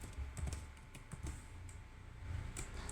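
Someone typing on a computer keyboard while entering student data into an Ubuntu terminal: quiet, close, irregular key clicks in short clusters, with a soft background hum.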